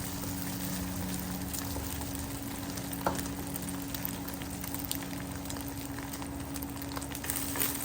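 Beaten egg for pad thai scrambles in a separate hot pan at home, giving a steady, faint, close sizzle with an occasional light scrape of a utensil and no talk.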